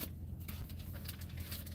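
Rain patters steadily outdoors, a faint, even hiss with soft scattered taps and a low rumble beneath, continuous and unbroken.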